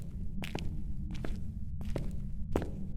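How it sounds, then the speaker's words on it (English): A ghost's footsteps in the game Phasmophobia, four faint, evenly spaced thuds over a constant low rumble, with no voices. "I'm talking about the speed of the footsteps."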